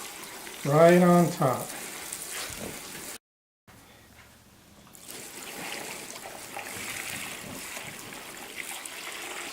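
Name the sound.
brine solution poured over turkey in a bag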